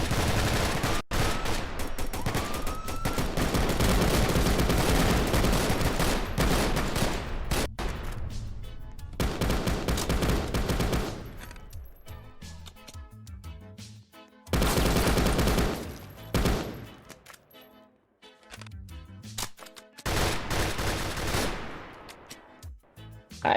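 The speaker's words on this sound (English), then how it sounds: "Yep, shots fired. Shots fired." Gunshots in a police patrol video game set near a substation: a long, loud stretch of rapid firing at first, then quieter gaps broken by further bursts, with no speech.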